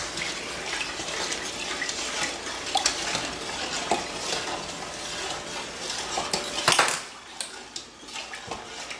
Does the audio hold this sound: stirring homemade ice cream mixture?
yes